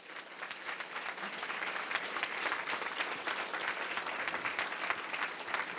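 Sustained applause for the staff of an elementary school at its 80th birthday celebration: a moderately distant crowd claps steadily, swelling slightly midway and carrying on without a break.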